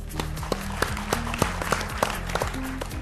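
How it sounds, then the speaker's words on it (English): Scattered clapping from an audience, irregular and moderately loud, with sharp individual claps over a steady low background. "Would you clap for Govindh and Stefanie?"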